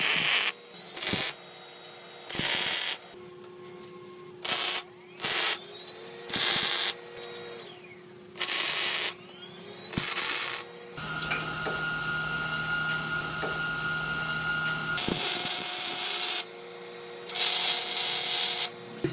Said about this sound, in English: So I'll just put a little bit of pressure on this and make a weld.